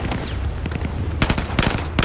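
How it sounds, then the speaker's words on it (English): Burst-fire gunfire during a Battlefield 4 battle, with loud clustered shots in quick bursts and short gaps between them. "Why is it that this gun always is burst fire?"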